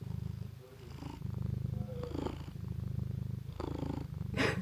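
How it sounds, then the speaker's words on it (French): A domestic cat purrs steadily and close by, a continuous low rumbling pulse with a few brief rustles and touches over it. "Alors il y en a un là qui se balade autour de moi et qui ronronne déjà."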